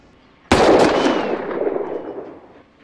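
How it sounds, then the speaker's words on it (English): A single sharp revolver gunshot in a Western film scene, loud and sudden, followed by a long echoing decay that fades over about two seconds. "can you shoot your piece? And shoot."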